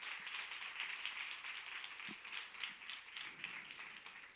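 Faint, distant applause from an audience gathered at an outdoor cooking event, a soft, steady patter of many hands clapping at a low level without any talking.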